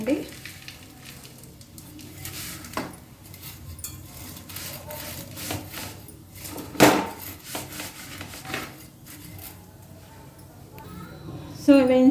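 Vermicelli roasts in a pan for semiya payasam and is stirred steadily, giving a soft continuous sizzle with scraping spoon strokes and an occasional louder clatter, under someone talking.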